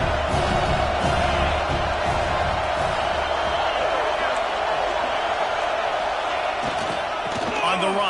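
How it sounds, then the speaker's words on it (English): Stadium crowd roaring throughout a College Football 26 video game broadcast, a steady loud wash of cheering with swells and whoops, heard beneath a play-by-play commentator talking. "This crowd knows when to bring it."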